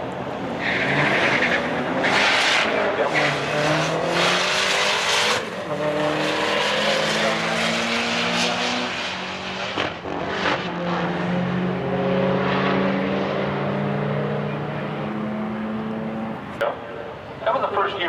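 A 2004 Pontiac GTO with a 5.7-liter engine drag races on the street, its loud engine roaring and revving through rising gear pulls, with brief tire squeal and other cars close by.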